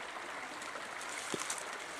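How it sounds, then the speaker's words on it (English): A small woodland stream running into a creek near a campsite gives a steady, close, broadband rush and trickle of flowing water, unbroken and without voices. "There's a smaller stream here that runs into the creek that runs by my camp."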